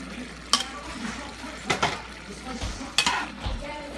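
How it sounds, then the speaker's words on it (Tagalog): Pork sizzles in a hot frying pan while a utensil scrapes and stirs, with several sharp clanks against the pan. "Haluin lang po natin."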